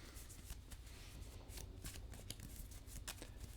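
A Flesh and Blood trading card deck is cut and riffled at a tournament table, with soft, rapid flicking card sounds repeating steadily and close by, no talking.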